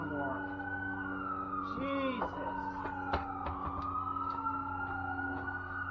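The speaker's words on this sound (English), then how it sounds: "Oh my god, there's a siren swarm." Several sirens wail and overlap nearby, pitches sweeping up and down at once, over a low engine hum; a voice briefly exclaims.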